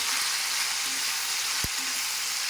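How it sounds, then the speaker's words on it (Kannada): Brinjal pieces with onion, tomato and grated coconut fry in hot oil, a steady loud sizzle filling the whole stretch with one sharp knock of a utensil midway. "ಈಗ ಈರುಳ್ಳಿ ಟೊಮೆಟೊ ಕೊಬ್ಬರಿ ಎಲ್ಲ ಸೇರಿ ಇದರಲ್ಲಿ ಹಾಕ್ಬಿಡೋಣ ಅವು ಕೂಡ ಚೆನ್ನಾಗಿ ಫ್ರೈ ಆಗಬೇಕು"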